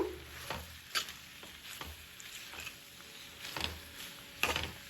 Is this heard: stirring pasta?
yes